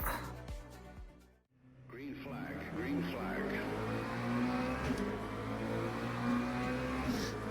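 Sim racing race cars idle and rev at the start of a race, engine tones rising and holding as the pack builds up, with a voice talking over the engine noise.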